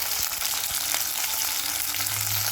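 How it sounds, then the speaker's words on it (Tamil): Onions sauté in a pan for an egg curry, giving a steady close sizzle with a few light stirring knocks over the short stretch, no voices. "வெங்காயம் வதங்கட்டும்"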